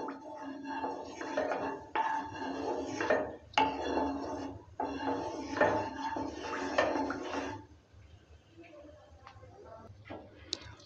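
A metal ladle scrapes and clatters around a pan of heated mustard oil in a kitchen, in repeated bursts of close scraping, then quieter light knocks.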